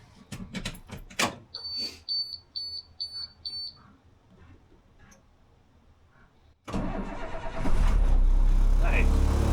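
A camper vehicle's engine cranks and catches after a few sharp electronic beeps and quiet handling noises, then runs loud and steady up close through the end.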